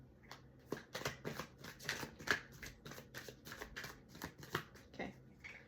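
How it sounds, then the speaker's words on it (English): Rapid riffling of a deck of cards, a run of crisp flutters and snaps repeating close up, no talking. "Last shuffle."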